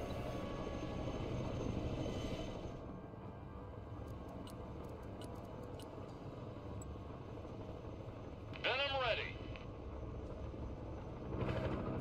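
Aircraft engine roar in the video game Broken Arrow, a steady broadband drone with a short rising whine sweeping past near the end, moderately distant.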